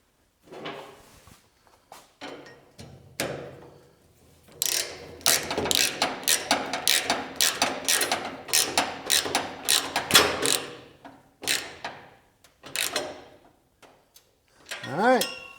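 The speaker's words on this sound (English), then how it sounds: "And then I just put the ratchet on it for a couple of quick turns." Quick ratchet clicks from turning a carriage bolt snug, a close, dense run of rapid pawl ticks in bursts, with brief pauses and a voice talking between them.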